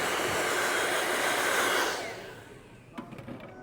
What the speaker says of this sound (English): You can use your blow dryer on it just to make it a bit cold faster.